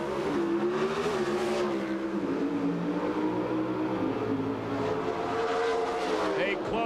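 NHRA drag race cars at the 1997 Autolite Nationals roar down the track in a sustained, loud engine drone that shifts in pitch as they accelerate, with a commentator talking over the noise.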